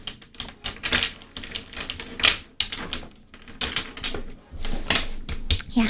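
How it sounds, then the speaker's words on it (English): Tarot cards shuffled mahjong-style, spread and swirled close to the mic, giving a continuous clattering, rustling patter with short bursts and brief pauses throughout. "mahjong style shuffle because it's more ASMR for you guys"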